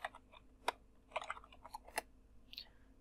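Quiet, irregular keystrokes on a computer keyboard, a handful of sharp clicks in short clusters with pauses between them, close and faint.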